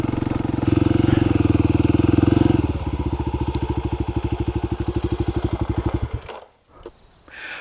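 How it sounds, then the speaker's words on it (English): Kawasaki KLX300 dirt bike, a 2024 model, ridden along a creek trail: a loud, close single-cylinder engine drones steadily, then settles into a rapid even putter before dropping off near the end. "taking a ride on a beautiful spring day on the mighty KLX300"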